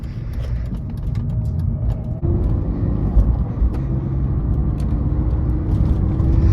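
A BMW E46 on back roads gives off a steady low engine rumble and road drone, close and continuous, with a slight shift in tone partway through and no talking.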